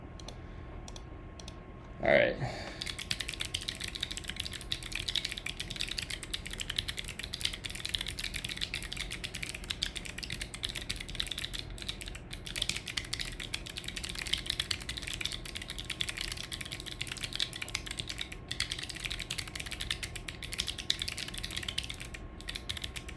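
Steady, close clatter of keys being typed on a computer keyboard runs almost the whole time without pause, with a brief thump near the start and a short spoken word early on.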